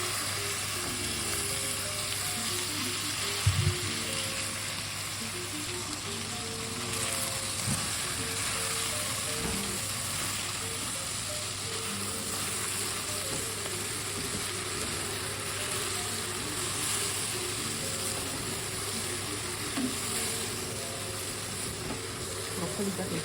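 Clean, washed broccoli sizzling and frying in a pan with ginger and pepper, a steady close crackle throughout with occasional stirring knocks.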